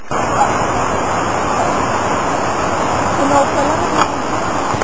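Taytay Falls waterfall roaring steadily and close by, a dense broadband rush of falling water that stays constant throughout with no pauses.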